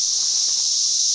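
Cicadas drone in a continuous, steady high-pitched buzzing chorus, loud and unbroken, with no voices.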